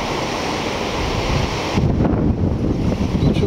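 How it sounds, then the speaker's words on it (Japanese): Ocean waves break at Sendai Shinko beach, a constant loud roar of surf with wind buffeting the microphone. No voice is heard. "いい感じで、波が割れていますね。"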